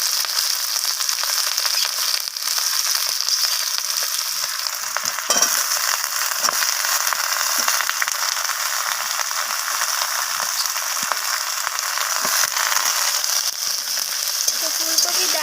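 Cauliflower stems and radish are stir-fried with onion, a constant loud sizzle broken by repeated scrapes and knocks of a spatula tossing the vegetables around the pan, and no one speaks.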